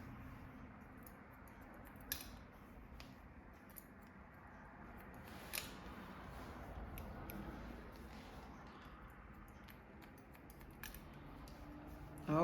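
Scissors snip through hair in a point-cutting technique during a salon bob haircut, producing soft, sparse clicks against a steady background hum with no talking.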